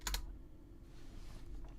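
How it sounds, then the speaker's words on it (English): A single computer keyboard key press, the R key, clicks sharply near the start, followed by quiet room tone. "So it's literally just as simple as on your keyboard press R."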